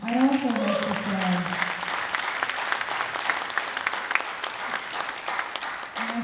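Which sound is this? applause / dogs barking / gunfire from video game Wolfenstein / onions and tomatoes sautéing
applause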